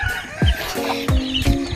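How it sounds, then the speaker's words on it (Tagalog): Backyard chickens in a small coop cluck close by in short, repeated bursts, several birds overlapping with no one talking. "So ayan po yung ating mga manok ngayon guys."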